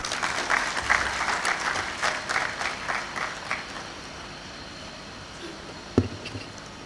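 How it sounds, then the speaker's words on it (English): Audience applause fills a graduate school congregation ceremony in a conference center, steady clapping for the first few seconds, then fading to a quieter hall with a single sharp knock near the end. "Please, let's welcome him with a round of applause."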